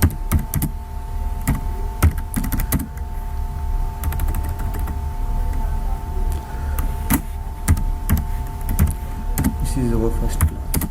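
HTML text is typed on a computer keyboard, with close, crisp key clicks coming in irregular clusters under a man's steady speech.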